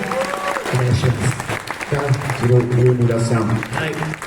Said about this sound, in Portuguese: Peço uma salva de palmas para o novo projeto